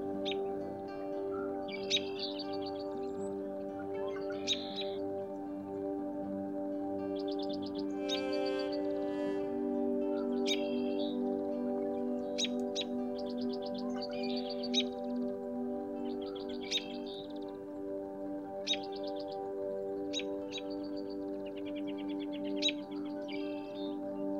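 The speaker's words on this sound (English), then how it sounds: "One of the robins came a little bit closer" Short bird chirps and tweets repeat irregularly over a steady low hum, sounding somewhat distant.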